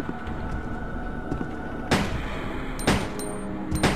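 Gunfire in the Resident Evil 2 video game: three sharp shots ring out about a second apart over a constant background hum.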